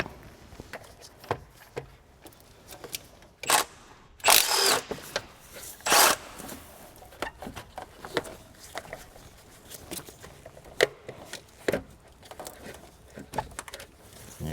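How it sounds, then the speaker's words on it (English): A wrench works loose the two 14mm bolts holding the starter on a Toyota, making scattered metallic clicks and knocks with brief louder clanks and shuffling movement, fairly close and sparse. "all that is holding the starter on are these two 14mm. Gonna remove them."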